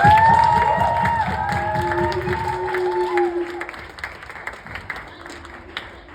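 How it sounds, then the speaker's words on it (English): An audience at a talk-show style discussion event applauds and cheers, a dense burst of clapping that starts loud and gradually thins out, mixed with crowd noise and scattered voices. "Can we please, with all sincerity, give a big shout out and round of applause to Mr. Hagins for putting this on for us."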